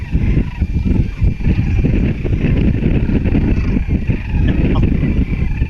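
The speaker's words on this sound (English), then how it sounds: "You can hear the wind." Strong wind buffets the microphone in steady low rumbling gusts, with faint bird calls, likely cranes, in the distance, in southeastern Arizona in November.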